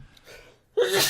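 A single sharp sneeze erupts at the end after a brief quiet intake, loud and close in an indoor conversation setting.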